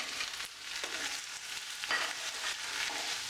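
White pumpkin and onions sauté in a pan for sambar, giving a soft, steady sizzle with a few light stirring scrapes and no talk.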